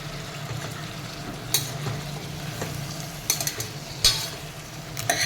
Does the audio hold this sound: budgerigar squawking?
no